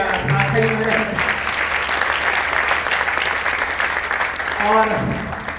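An audience at a folk dance performance bursts into loud, sustained applause that continues steadily for several seconds, with a voice speaking over it at the start and end.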